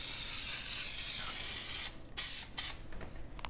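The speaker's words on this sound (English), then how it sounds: "we're going to spray the back of this piece." An aerosol can of spray adhesive sprays in a steady close hiss onto the back of a motorcycle trunk liner piece, then several short bursts follow after a pause.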